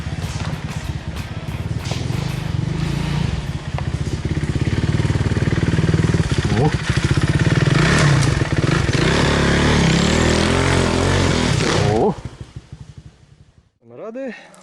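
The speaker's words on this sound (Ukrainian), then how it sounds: "хочу показати вам байкерів, які тут драйвують, катаються." Motorcycles ride through a Carpathian forest, their loud engine drone steady and close for about twelve seconds before dropping away, with a brief revving sweep near the end.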